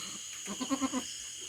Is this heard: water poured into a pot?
no